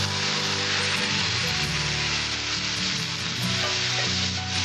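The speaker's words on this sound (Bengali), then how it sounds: "আমার ডালটা ভাজা হয়েছে, এবার আমি জল দেবো। জলটা আমি দিয়ে দিচ্ছি।" Water is poured into a pan of fried lentils, giving a loud continuous sizzle and bubbling hiss with stirring, steady throughout.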